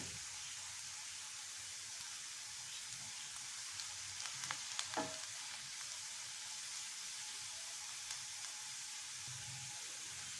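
Ingredients for instant mango pickle fry and brown steadily in a pan, a soft continuous sizzle with a few faint clinks and scrapes near the middle.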